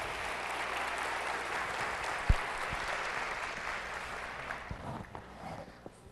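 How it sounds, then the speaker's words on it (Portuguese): An audience at a live event applauds a man coming up to the microphone, full steady clapping that gradually thins and fades toward the end, with a few scattered knocks and handling bumps. "Uma salva de palmas pela coragem dele vir aqui"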